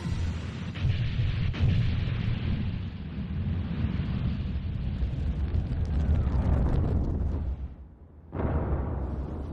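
Military weapons firing at the giant monster Gamera in a film battle scene, a continuous heavy roar of blasts and rumbling explosions, loud and dense, briefly dipping before surging again.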